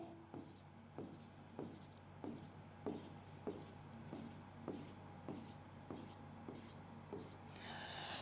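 Marker or chalk writing out electron configurations on a board, a steady series of short rhythmic strokes and taps, close and fairly quiet, with no talking.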